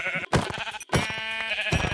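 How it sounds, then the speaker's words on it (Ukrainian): Sheep bleating in Minecraft, two or three loud nasal bleats in quick succession with a brief gap between, close and clear. "Ось там я бачу вівць"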